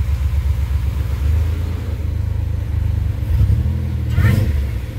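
A 2007 Pontiac Grand Prix GT with a supercharged engine revs close by in a garage, a deep pulsing idle swelling into a couple of louder throttle blips near the end, no voices.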